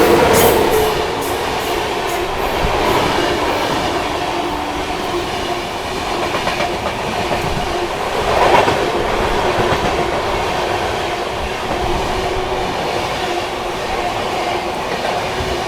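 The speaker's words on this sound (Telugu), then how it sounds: "వివేక్ సూపర్ ఫాస్ట్ చూడు అట్లా." Vivek Superfast Express passing by on the line, a long sustained roar of carriages and rhythmic wheel clatter, loud and close, with faint wheel squeal.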